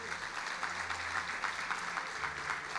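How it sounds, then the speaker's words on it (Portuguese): A church congregation applauds in a steady, even wash of clapping that sounds moderately distant and fairly soft. "Você pode dar um aplauso ao Senhor?"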